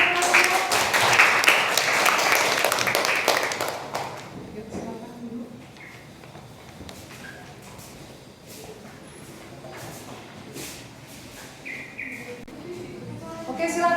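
Classroom applause after a group finishes its presentation: dense, fairly loud clapping for about four seconds that then dies away to a quiet room with faint bird chirps.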